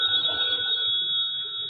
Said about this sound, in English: Should I answer the phone, boss?